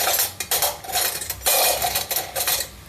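A metal spoon clatters and clinks against a cooking pot of milk being heated, giving several close, bright knocks and scrapes in quick succession.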